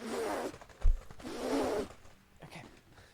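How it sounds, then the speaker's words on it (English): A game cartridge is pulled out of a console, giving two scraping, zipper-like slides with a soft thump between them, close and fairly quiet, with no talking. "let me get the cartridge out."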